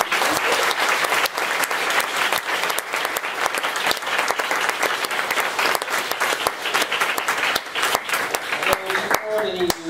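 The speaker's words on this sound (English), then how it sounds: "Let's give a final round of applause" Final round of applause from the audience closing an effective altruism for animals panel, loud sustained clapping with sharp individual claps standing out and a voice speaking near the end.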